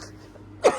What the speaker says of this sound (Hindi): एक तो सबसे इनऑपर्चून टाइम पे मुझे खांसी आ जाती है